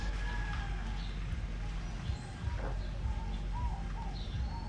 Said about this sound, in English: Doves are crazy, like the birds, turtle doves.